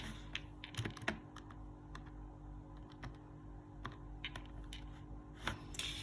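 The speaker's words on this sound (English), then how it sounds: "Type that into my calculator." Numbers are keyed into a calculator as a series of soft, close button taps in an irregular rhythm over a quiet room background.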